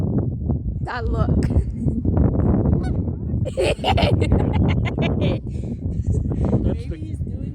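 Geese at Lake Tahoe honking loudly and repeatedly close by, irregular calls overlapping, with people talking among them.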